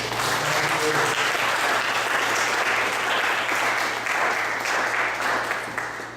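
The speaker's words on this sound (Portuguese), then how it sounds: "Vamos dar uma salva de palmas para esse Deus." A church congregation bursts into sustained applause during a sermon, dense and loud many-handed clapping filling the room for several seconds, with a faint low hum beneath and no clear speech.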